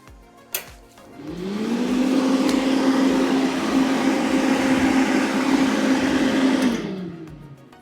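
A Hotdevil 85,000 BTU forced-air propane heater is switched on with a sharp click, and its fan motor spins up into a steady, droning hum that holds for several seconds before winding down.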